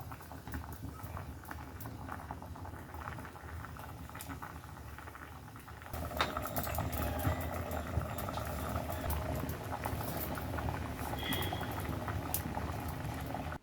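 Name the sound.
fish curry boiling over wood fire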